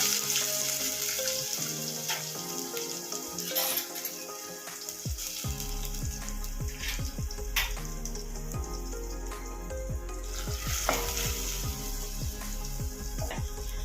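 Onion, tomato, ginger-garlic paste and green chilli fry for dal tadka, giving a continuous sizzle with scattered clinks and scrapes of stirring, close and moderately loud throughout.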